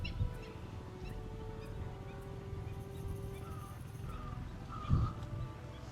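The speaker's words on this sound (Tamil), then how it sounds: "பறவை சத்தங்கள்," Birds call in a village garden, with faint chirps and fowl-like calls over a low, steady outdoor rumble and a brief louder knock near the end.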